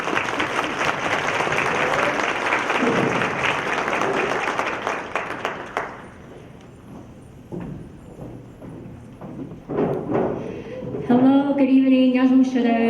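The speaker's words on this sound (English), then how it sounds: "Big round of applause to Hillary Lore." An audience at a Hmong community event applauds loudly for several seconds, the clapping then thinning out before a voice begins speaking into a microphone.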